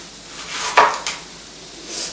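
A knife slicing a fresh tomato in half on a cutting board, one short crisp cut followed by a faint knock, close and quiet with no talk.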